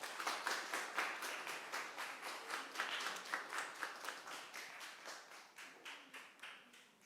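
An audience at a youth culture festival claps to welcome a singer onto the stage, a quiet, fairly far-off burst of many hands that settles into a steady, rhythmic pulse throughout.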